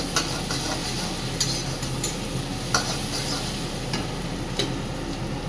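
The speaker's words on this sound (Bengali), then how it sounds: "পেঁয়াজের সঙ্গে একটু রসুনটা ভেজে নেব" Steady sizzling of garlic and onion frying in a hot pan, with occasional sharp clicks of stirring against the metal, continuous and close.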